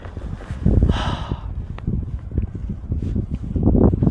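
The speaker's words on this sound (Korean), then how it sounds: "바람소리 바람소리 굉장하고요" Gusty wind rushes and buffets the microphone in uneven surges in a snowy mountain valley, louder at the start and end, with scattered knocks and rustles underneath.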